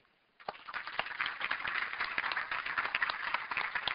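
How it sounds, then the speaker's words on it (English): Scattered hand clapping from a small group, steady and moderately quiet, continuing without voices after a brief silent start. "let's leave with applauding Ed."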